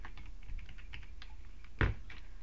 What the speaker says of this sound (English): I'm going to type ding, ding, ding in the comments.